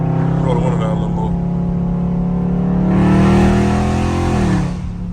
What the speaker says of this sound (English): I just play with the RPM, man